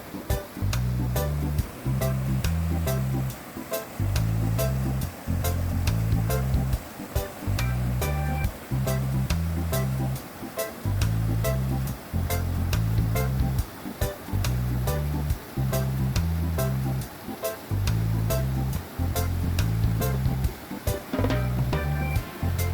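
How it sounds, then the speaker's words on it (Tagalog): Water rushes steadily below a mountain road near Villa Aurora after rain, a broad continuous wash with a recurring pulsing swell, heard from some distance with no talking. "Ito yung naririnig natin yung ano, tubig."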